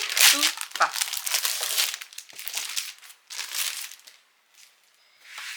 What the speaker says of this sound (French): Hop, on va déballer